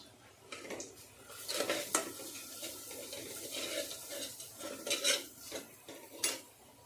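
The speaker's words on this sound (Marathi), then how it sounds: "आता हे व्यवस्थित परतून झाल्यावर" Chicken for soup is sautéed and stirred in a pan, giving repeated scraping and clattering strokes of a spoon against the metal, close and moderately loud, over a faint sizzle, with no talking.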